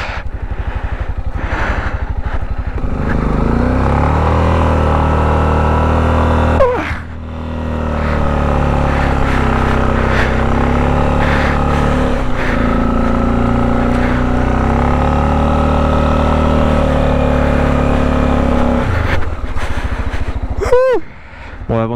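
A car engine revs hard in cold weather, a loud continuous roar whose pitch rises and falls in long sweeps, with brief drops and a couple of sharp dips in the engine note.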